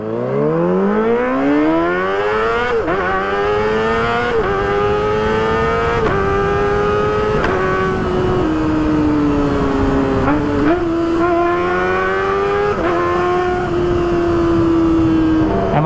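A Kawasaki ZX25R sport motorcycle engine, with a fault lighting all its sensors, screams continuously at high revs, its pitch climbing steeply at first, then surging and dipping through repeated throttle blips, loud and close throughout.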